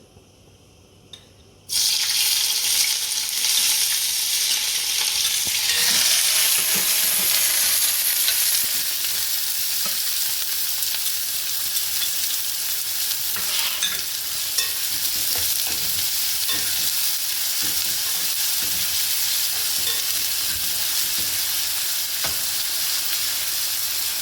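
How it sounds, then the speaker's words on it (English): Onion, garlic and peppers fry in a little oil in a pot over medium heat. A strong, steady sizzle kicks in abruptly after a quiet moment and holds close and loud, with occasional stirring and faint clinks. "I'm going to fry my onion, garlic, and peppers on this."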